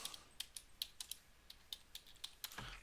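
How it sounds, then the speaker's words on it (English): Quiet, uneven key presses on a computer keyboard during a gaming live stream, irregular hunt-and-peck typing with a slightly louder clatter at the end, no talking. "Sorry if my typing is loud."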